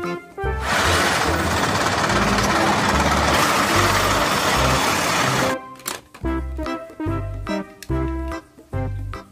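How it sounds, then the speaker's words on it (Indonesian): A children's toy steel tank engine, loud and mechanical: a dense, continuous rattling roar for about five seconds, then a sudden drop into choppy, stop-start bursts of rumbling and clatter. "Steel tank. Tank baja."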